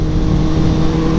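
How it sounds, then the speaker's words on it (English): A brand-new 2012 Honda CBR1000RR sport motorcycle engine revving loudly and steadily close by as the throttle is cranked, a dense sustained roar with no speech. "You can sound like a MotoGP bike, man, when you crank that throttle on this bike."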